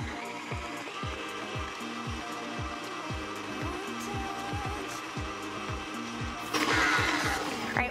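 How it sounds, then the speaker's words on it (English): A stand mixer hums steadily on low speed, its beater thumping around the mixing bowl in a regular, even rhythm up close, with a brief brighter whir joining in toward the end. "going to lock the stand mixer into place and set it on a low speed and let it mix for about one minute"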